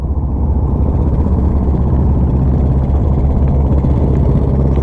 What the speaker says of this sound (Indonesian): Hidup semua dua mesin.